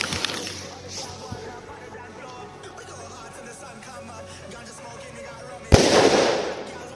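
A single 3.5-gram firecracker cracks with one sharp, loud blast late on, followed by a short echoing rumble, after a stretch of quiet outdoor background with faint crowd chatter.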